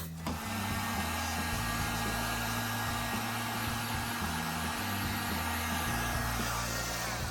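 A hair dryer blows hot air steadily and loudly over decoupage paper on a dressing table mirror, a continuous motor whine and rushing airflow holding at one level from start to end.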